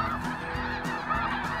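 A flock of snow geese flies over Manitoba hunting grounds, a dense, continuous chorus of overlapping honks that carries loud and unbroken throughout.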